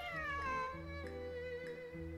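A cat's meow in Genshin Impact, a single short call over steady game music with sustained tonal notes and soft chime-like hits.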